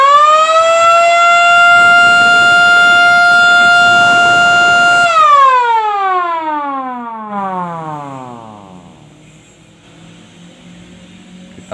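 An MS390 series electronic siren holds a loud, steady wailing tone for about five seconds, then winds down, the pitch sliding lower and fading to a faint hum, alone and close.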